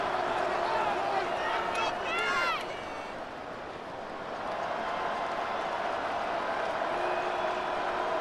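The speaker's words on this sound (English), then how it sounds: "The crowd cranking it up another notch before 3rd and long." Stadium crowd noise in the Madden NFL 26 football video game, a steady roar swelling before a third-and-long play, dipping briefly midway and then building again, with a commentator talking over it.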